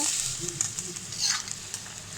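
About ten kilograms of chicken frying in oil for bhuna khichuri, a loud continuous sizzle with crackling bursts and stirring clatter.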